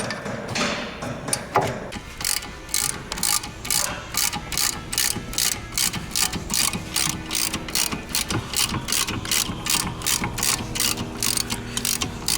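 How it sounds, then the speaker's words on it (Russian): Steady ratchet clicking tightens new bolts on the rear hub of a Volvo XC90, a fast even run of close, loud clicks kept up for several seconds after a brief opening scuffle. "Так, постепенно, равномерно все болты затягиваем."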